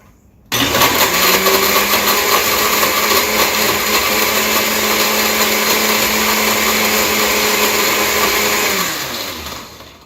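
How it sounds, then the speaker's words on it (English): A blender runs at full speed, mixing a pre-workout drink in a steady, loud, close-up whir for about eight seconds before winding down to a stop. "And then blender up."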